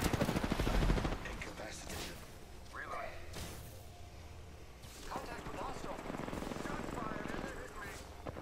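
Gunfire crackles in an Apex Legends-style battle royale video game during a Caustic match, with a burst of rapid shots at first and then scattered shots and explosive thumps, while players talk over it.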